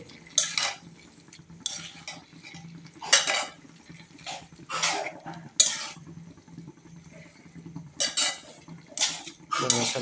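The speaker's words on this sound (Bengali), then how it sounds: "ধনিয়া পাতা দেওয়া শেষ এখন নাড়াচাড়া করে নিতে হবে" A spoon stirs vegetable bhaji with coriander leaves in a pan, bright metallic scrapes and clanks in irregular bursts over a faint low hum of cooking.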